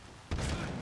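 A single sharp, close shotgun blast in Medal of Honor Warfighter, sudden and loud after a quiet moment, with a short rumbling tail.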